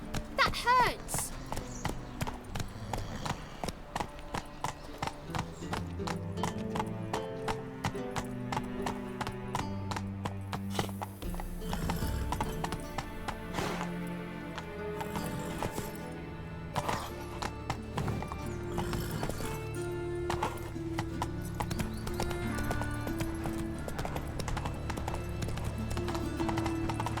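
Roach, the horse in The Witcher 3, gallops with a rapid, steady clip-clop of hooves running through the whole stretch, set against music with some character speech.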